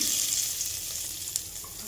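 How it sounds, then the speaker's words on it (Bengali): Whole cumin seeds and cinnamon sizzling in hot oil for a chicken kosha tempering, a steady close hiss with a faint clink of a utensil partway through. "তেল দিয়ে দিয়েছি, গোটা জিরে আর হলো দারচিনি, এটা ফোড়নে দিয়ে দেবো"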